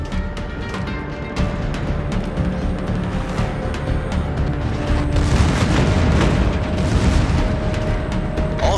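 A destroyed enemy battleship explodes in the naval warship game Lepanto: a deep, rumbling boom swells into dense, continuous low roar and crackle that holds loud throughout.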